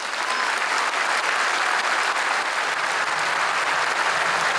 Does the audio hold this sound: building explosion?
no